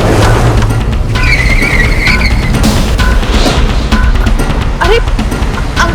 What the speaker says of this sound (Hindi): फिर उसने अचानक एक सुनसान इलाके की तरफ गाड़ी मोड़ दी।